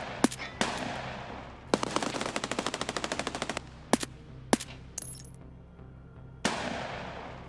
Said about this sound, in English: Something just shot at them.